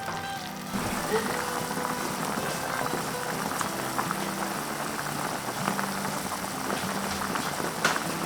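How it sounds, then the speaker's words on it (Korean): Sweet pumpkin curry simmers in a pot with water, giving a steady bubbling, crackling hiss that runs throughout beneath a voice speaking. "물을 부어서 끓여주시면 돼요"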